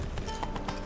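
Horse hooves clip-clop at a walk in The Witcher 3 video game, a quick run of soft, fairly close thuds over a low background bed, with no talking.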